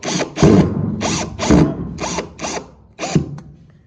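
A power drill drives screws into a wooden board in roughly seven sharp, loud whirring bursts separated by brief pauses, heard up close with no talking.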